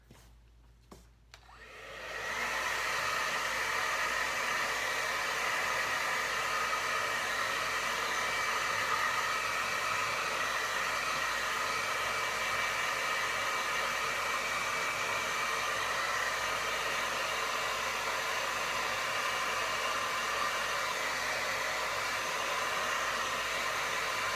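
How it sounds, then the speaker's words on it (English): A hair dryer switches on after a brief quiet moment and then blows a steady, loud airy roar for a long stretch while drying paint on a canvas. "I want to go ahead and hit that with the hairdryer"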